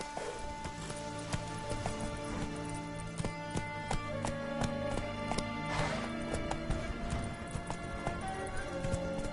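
The horse Roach gallops in The Witcher 3, with rapid, steady hoofbeats pounding close and continuous over a dense game soundscape.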